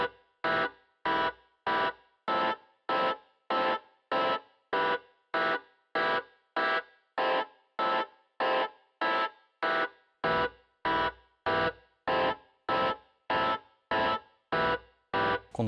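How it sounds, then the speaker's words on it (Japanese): A layered synth sound processed with added distortion in a DAW repeats as a steady series of about twenty-five short, buzzy, gritty pulses, evenly spaced and moderately loud, with no voices. "少し歪みの部分が増えてくる感じですね"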